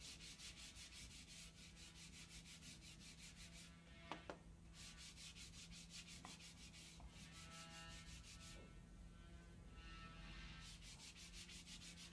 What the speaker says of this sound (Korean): 자, 이제 샌딩을 시작하겠습니다. 샌딩은 결 방향으로 합니다.